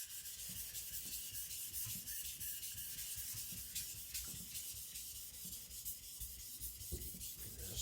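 Polishing a custom 52100 steel Chinese cleaver on a natural sharpening stone, just behind the edge, making a continuous gritty rubbing and scraping that stays close and even throughout, with no voices.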